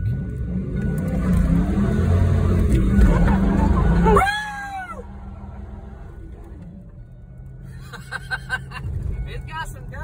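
A 1995 Ford Mustang Cobra pulls away under acceleration, its engine rising in pitch with a loud close roar before easing off, followed by quieter cabin noise and brief chatter.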